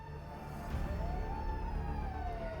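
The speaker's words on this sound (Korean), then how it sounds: "지원 요청에 따라 대기하고 있던 소방차가 현장에 긴급 투입되고 있습니다." A fire engine siren wails at a moderate distance, its tone sweeping slowly up and down over a low engine rumble, as the truck arrives at an emergency response drill at a Daegu metro rail depot.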